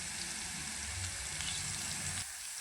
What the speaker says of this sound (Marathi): तर चला लसूण तेलामध्ये चांगला फ्राय करून घेऊया